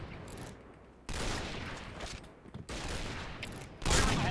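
Gunfire in the shooter video game Point Blank comes in loud, dense bursts of rapid shots separated by short quieter gaps, with the heaviest burst at the end.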